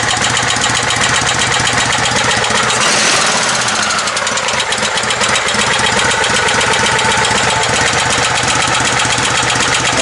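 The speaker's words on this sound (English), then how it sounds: "I like the low idle." A tow rig truck nicknamed the Snatch Tractor idles low and steady, its engine rumbling and knocking continuously up close and loud, with no talk over it.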